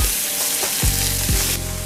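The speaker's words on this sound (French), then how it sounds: "On saisit bien chaque morceau de viande." Pieces of Astarac Bigorre black capon sear in a hot pan, a loud continuous sizzle with a couple of sharp stirring scrapes, no voices.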